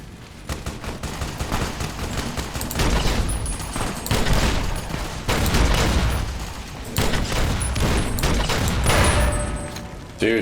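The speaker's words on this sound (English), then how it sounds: "stop firing your missiles at me" Rapid missile launches and explosions in Fallout: New Vegas, a loud, dense barrage of blasts and gunfire-like bursts that keeps going without a break, with a brief louder hit at the very end.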